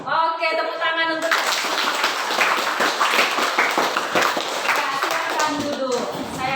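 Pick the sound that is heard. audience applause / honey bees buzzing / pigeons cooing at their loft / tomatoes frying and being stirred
audience applause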